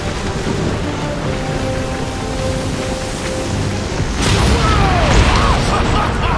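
Heavy rain pours through a raging alien storm in Guardians of the Galaxy, a steady loud wash that swells near the end as a thunderous boom rolls in, with voices talking over it.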